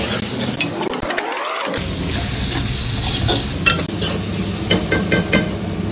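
Cabbage tossed into a masala mixture sizzles loudly in a pan, with vigorous stirring, scraping and light metallic clinks of the utensil against the pan throughout.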